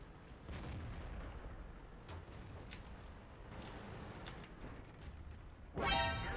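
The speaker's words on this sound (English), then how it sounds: "SU-122-44 shooting heat at me" Shots from an SU-122-44 tank destroyer firing HEAT shells in World of Tanks, several sharp distant booms spaced a second or so apart over a steady rumbling game background, ending in a louder burst.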